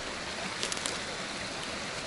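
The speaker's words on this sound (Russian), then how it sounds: "журчит ручей" Mountain stream near a hillside trail, a steady broadband rush and gurgle of flowing water heard continuously and fairly close, with no talk over it.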